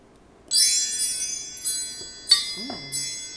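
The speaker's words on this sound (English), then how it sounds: "Let's call in spirit with some wind chime time." Wind chimes ring in a quiet room, a bright metallic burst that hangs and rings on, followed by three more shimmering strikes with lingering tones and a soft low knock in between.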